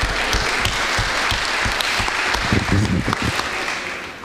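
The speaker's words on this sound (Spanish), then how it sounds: "Un aplauso para el doctor" An audience at a talk on pharmacological prescription applauds the doctor, with a dense, loud wash of clapping throughout and some voices underneath.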